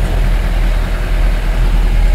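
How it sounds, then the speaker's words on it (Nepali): A tractor approaching on a rural roadside near freshly dug drainage ditches, its engine a steady low rumble close by throughout, with no voices over it. "ट्र्याक्टर आइरहेको छ यहाँ"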